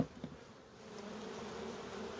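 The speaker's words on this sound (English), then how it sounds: "So you can see plenty of bees in there." Honey bees buzzing around an open hive while clearing supers with a Rhombus escape, a steady insect drone with a few brief louder passes near the start.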